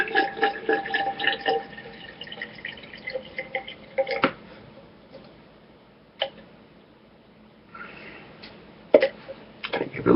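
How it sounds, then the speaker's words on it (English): Dr. Pepper soda pours into a glass in a few short bursts: close, gurgling splashes and fizzing at first, then quieter stretches broken by scattered drips and clinks. "Just gonna pour a little bit of that in there."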